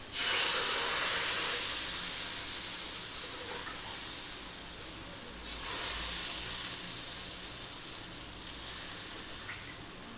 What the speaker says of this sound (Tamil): இப்போ தக்காளி தோசை ஊற்ற ஆரம்பிச்சிடலாங்க